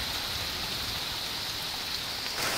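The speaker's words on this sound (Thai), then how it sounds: "ฝนก็ตกแล้วก็ฟ้าร้องเสียงดังด้วยนะคะ" Heavy rain pours down steadily, a dense, even hiss of drops on surfaces with no voices.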